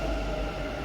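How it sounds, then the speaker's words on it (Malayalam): Bangalore metro train riding between Lalbagh and Majestic, a steady low rumble with a faint high whine heard from inside the carriage, continuous and without talk. "ഞങ്ങൾ മെട്രോയിലാണ് ലാൽബാഗിൽ നിന്ന് മജസ്റ്റിക്കിലോട്ട് പോയത്"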